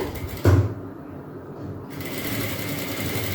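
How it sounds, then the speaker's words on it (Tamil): A sewing machine stitches down a lightly folded piece of cloth on an umbrella frock, a short close motor whir that starts with a sharp mechanical clack and then runs steadily. "தையல் போட்டுருக்கேன். ஸோ போட்டாச்சு."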